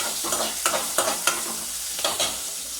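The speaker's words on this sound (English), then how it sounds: "add small onion, sliced small onion. If you want, you can add big onion also. Just saute it." Sliced small onions sizzle steadily in hot oil in a pan, a constant close frying hiss broken by regular stirring scrapes about every third of a second.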